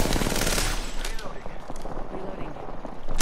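Apex Legends gunfire rattles in fast automatic bursts and scattered shots, loud and continuous across the moment, with players talking over the fight.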